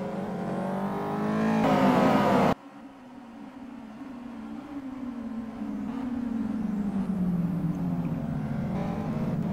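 Race cars in the Simraceway racing video game scrambling through a corner, engines revving loudly before a sudden cut, then a sustained droning whine as the pack accelerates on, with no talk.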